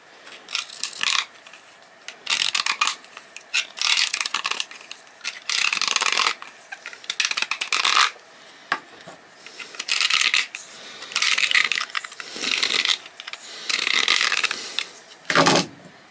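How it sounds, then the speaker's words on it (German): A hand file rasps the neck of a PET plastic bottle flat, about a dozen bursts of scraping strokes in an uneven rhythm with short pauses between, close and fairly loud. "hier drin die Kante entgraten und das Ganze hier oben mit der Feile flach anschleifen"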